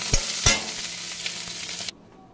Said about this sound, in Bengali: মাছটা নামিয়ে দেবো, ভাজা হয়ে গেছে